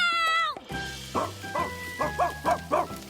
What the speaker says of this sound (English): While he's just barking